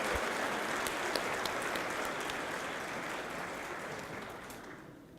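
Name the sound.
graduates applauding their faculty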